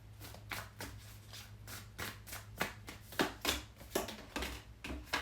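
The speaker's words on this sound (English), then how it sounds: "Why can't I shuffle your cards today?" Tarot cards are shuffled in quick riffling bursts, a rapid series of crisp flutters and taps heard close up, with no talking.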